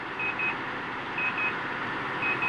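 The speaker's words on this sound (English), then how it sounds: "Any beeping indicates that the distance between the truck and forward vehicle is closing" A truck's forward collision warning gives a high, steady electronic beep in short pulses about once a second over a constant low engine rumble, as the gap to the vehicle ahead closes.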